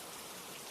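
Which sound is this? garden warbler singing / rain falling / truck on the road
rain falling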